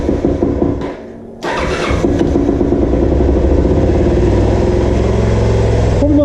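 A Kawasaki EL250 motorcycle cranks briefly, then fires up and settles into a loud, steady idle close by.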